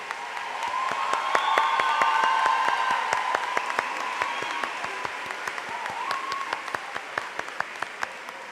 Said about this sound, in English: Would you please stand so we can applaud your services to our country?